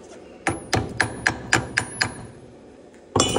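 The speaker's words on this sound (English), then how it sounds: "Get that slag beat off." Slag is chipped off fresh stick welds made with a YESWELDER YWM-160 multiprocess welder, seven sharp metallic hammer taps in quick succession, close and clear, then a pause and another strike.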